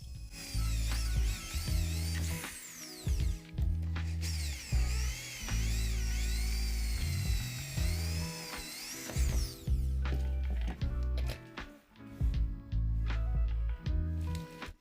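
Electrical socket being fastened to an enclosure with a power tool, bursts of whirring and ratcheting driver noise starting and stopping repeatedly, close and loud with no talk.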